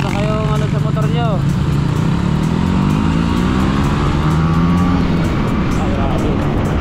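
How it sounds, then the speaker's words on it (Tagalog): Several Sniper 155 motorcycles rev and accelerate hard from a stop before the light turns green, engines rising in pitch under loud, continuous traffic noise, with people talking over it. "Hindi pa magi-green, umarangkada na. Ganyan ang Sniper 155."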